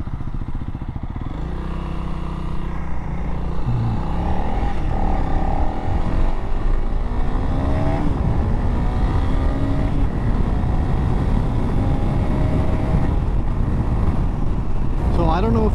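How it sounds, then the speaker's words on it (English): A Honda CRF300L dual-sport motorcycle, stock and carrying one rider, revs up and holds full throttle at speed, its engine drone rising through gears under loud wind rush, with a rider talking over it. "I've got the throttle pinned, fully open, and it says I'm going 70 miles per hour"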